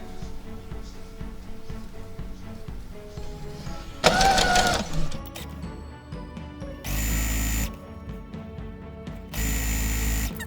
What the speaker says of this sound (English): so I am sewing wrong sides together